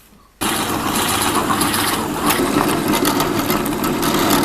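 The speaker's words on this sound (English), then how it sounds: "While I'm at the drill press" A drill press bores into a wooden baby rattle piece, starting abruptly after a brief quiet moment and then running as a steady, loud, broadband whir for several seconds with no talking.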